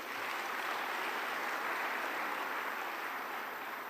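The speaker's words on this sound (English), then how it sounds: "I want us to give them a round of applause." An audience gives a round of applause at the Commonwealth Youth Forum in Kigali, a dense, even wash of clapping that holds steady for a few seconds at moderate level.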